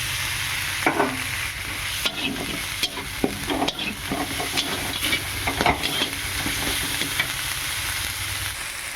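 Tomato paste frying in hot oil for a potol curry, a steady crackling sizzle broken by repeated scrapes and knocks of the spoon as it is stirred, close and continuous with no talking.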